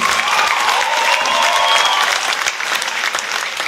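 Full, sustained applause from a Sunday church congregation honouring the bishop's wife, loud and even throughout and easing slightly near the end, with a faint tonal ring mixed into the clapping.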